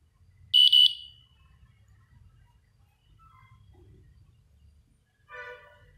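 A Honeywell GasAlertMicro 5 gas detector sounds its alarm during a self test: a loud, piercing electronic beep near the start, then quiet background, then a second, softer warbling tone burst near the end.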